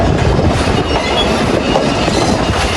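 A passenger train runs on the line from Faridpur to Pangsha, giving a loud, close, continuous rumble with rattling carriages, clattering wheels and some wheel squeal.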